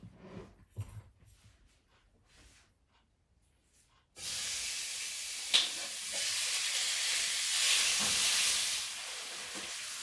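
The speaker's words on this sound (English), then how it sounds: "I've got my 2 petite sirloins sliced up thin, and my oil in my wok is hot, so I'm going to transfer these over" Thin-sliced petite sirloin beef drops into hot oil in a wok and bursts into a loud, steady sizzle after a few seconds of quiet handling noises, with one sharp crackle early on.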